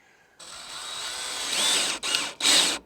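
A power drill drives screws into garage soffit on an exterior box return. One long, steady whine is followed by two short bursts separated by brief pauses, loud and close, with no talking.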